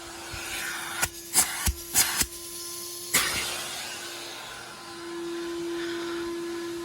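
A central vacuum system runs with strong suction, a steady whooshing drone close by, broken early on by a few sharp knocks and bumps before the airflow settles into a continuous roar.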